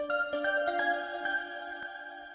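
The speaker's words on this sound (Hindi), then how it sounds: "इसका फोन आ रहा है।" Mobile phone ringtone playing a bright melodic sequence of tones, clear and close, with a few sharp attacks and then holding notes, no speech.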